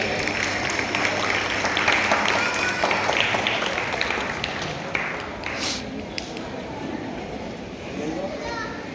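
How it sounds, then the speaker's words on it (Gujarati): Audience clapping at a Republic Day function at a school in a residential society, steady broadband applause mixed with children's chatter and crowd noise, fading gradually toward the end. "જોરદાર તાળીઓ થઈ જાય."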